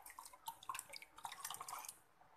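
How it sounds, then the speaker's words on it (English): Water trickles and splashes into rava dosa batter in a home kitchen, a faint, irregular run of drips and pours close by, with no talking. "I am adding water."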